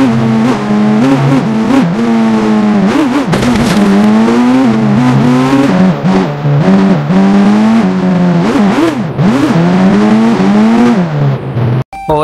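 Toyota Fortuner racing at high speed in the Indian Bike Driving 3D video game, a loud, steady engine roar rising and falling through repeated revs and gear shifts, with no talk over it.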